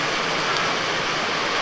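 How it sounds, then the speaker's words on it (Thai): Heavy rain pouring down in the countryside during the rainy season, a dense, steady hiss of water with no voices over it. "โอ้ฝนตก"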